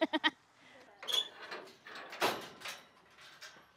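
A few short, quick bleats from goats at the start, followed by shuffling and scraping noises with faint voices in the background.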